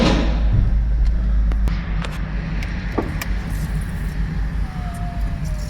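A 2003 Chevrolet Tahoe with 349,000 miles and a 4L60E transmission that won't shift pulls away, its engine giving a steady low rumble close by, with a soft thump early on.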